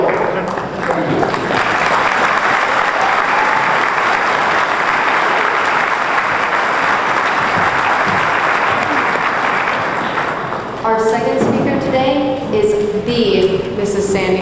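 Loud, dense applause from a large crowd at a high school graduation ceremony, sustained for about ten seconds before it breaks off and a voice begins speaking.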